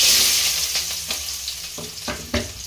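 Onions frying in hot oil for cauliflower kurma, a loud close sizzle with a few stirring clinks and scrapes over it.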